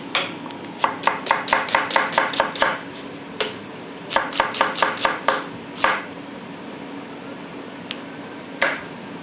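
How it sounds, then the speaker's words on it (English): A knife slicing onions thin on a cutting board: quick, even runs of crisp close chops in two bursts, then a few scattered single cuts, with no talking. "Gotta get your onions cut really good and thin."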